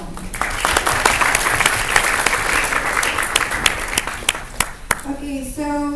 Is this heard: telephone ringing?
no